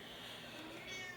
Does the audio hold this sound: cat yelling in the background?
yes